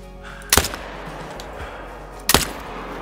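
Two loud, sharp hunting rifle shots ring out in theHunter: Call of the Wild, spaced almost two seconds apart. Each crack is followed by a brief echoing tail over quiet outdoor ambience.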